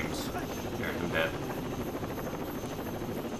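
In Rainbow Six Vegas 2, a helicopter hovers overhead with a steady, moderately loud rotor drone and engine hum that continues throughout, under brief game sounds and a player's voice.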